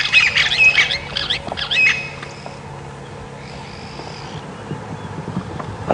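Harsh, repeated bird squawks ring out loudly at the start, then fade to quieter calls over a faint background rumble, heard during a morning safari game drive in the Sabi Sand reserve, South Africa.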